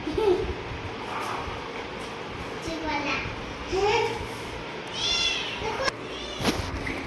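An orange and black domestic cat meows several times at moderate volume, rising and falling mews spread across the clip, mixed with a voice and household background noise.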